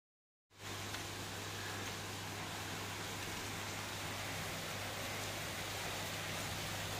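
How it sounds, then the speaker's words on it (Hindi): Heavy rain pours outside in the early morning, starting abruptly and then holding as a dense, loud, steady hiss with a low constant hum beneath it, with no talking. "बारिश काफ़ी ज़्यादा तेज़ हो रही है बाहर"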